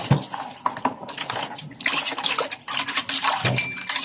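Dishes, pots and cutlery clatter and clink irregularly during washing, with bursts of running water and close scraping knocks, loud and near.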